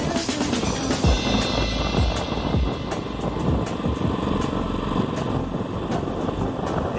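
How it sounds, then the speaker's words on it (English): Strong wind roars and buffets over the microphone while a motorized bicycle is ridden, a continuous broadband rush with the small engine's drone beneath it and no talking. "Damn, that wind's starting to blow hard right here."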